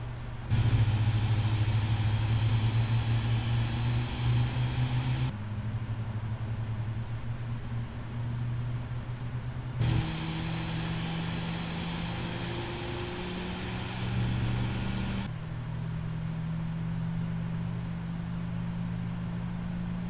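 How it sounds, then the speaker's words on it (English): A steady, droning mechanical hum as an engine of a PMDG 777-300ER airliner starts in the Prepar3D flight simulator, with tones stepping and slowly rising in pitch over a constant low rumble. "There it is, starting engine number 1."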